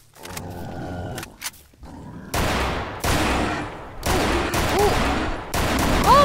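Gunfire in the video game STALKER Autumn Aurora, with a burst of sharp repeated shots layered over growls and roars, loud and close with no talk.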